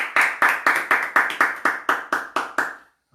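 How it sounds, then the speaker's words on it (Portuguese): Hands clap in a steady rhythm during a church worship service, about a dozen sharp, loud claps evenly spaced close by, stopping abruptly near the end with no talking. "E as palmas louvam o Senhor"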